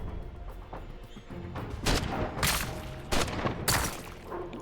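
Gunshots in an RPG video game: a few loud, sharp bursts of gunfire, roughly a second apart, over a steady rumbling game soundscape, with no talking during the shots.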